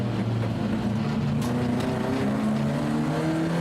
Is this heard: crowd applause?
no